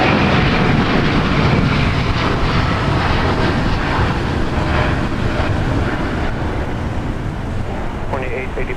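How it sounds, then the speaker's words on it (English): A heavy jet at Minneapolis–St. Paul airport roars with a broad, steady engine rumble that fades slowly, mixed with wind noise on the microphone, while voices talk over it. "It never gets old to me, Alex, to watch the heavies land and depart"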